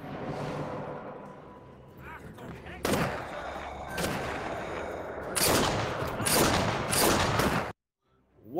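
Gunfire in the Sniper Elite video game: several loud, sharp shots and bursts ring out in quick clusters, each tailing off briefly, before the sound cuts to silence.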